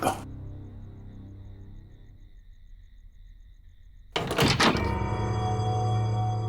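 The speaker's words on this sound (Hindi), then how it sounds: "दरवाजा बंद कर दो।" A door shuts with a sharp thump partway through, cutting sharply from a quiet low hum into a louder room tone afterward, with no talking.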